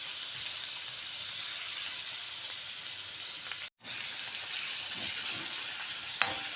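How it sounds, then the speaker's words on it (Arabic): Chicken breast sizzles steadily in a pan, a loud continuous crackle of frying broken by one brief silent gap, with a small clink near the end; no one speaks. "راح اخلي الصدر يستوي ترمك بالشكل هذا"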